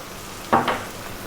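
A spoon gives a short scraping stir through chicken curry with coconut milk in a pan, one brief burst and a lighter follow-up, then a quiet background.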